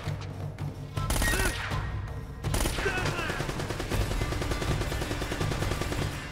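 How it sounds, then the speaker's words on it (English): Heavy gunfire like a .50 cal machine gun in Uncharted pounds in rapid, loud automatic bursts, continuous and close, with a short lull before firing resumes. "That sounds like some heavy artillery."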